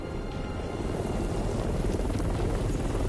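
A helicopter in the video game Batman Arkham Knight hovers with a steady, dense rotor thrum and whine that holds loud and constant throughout.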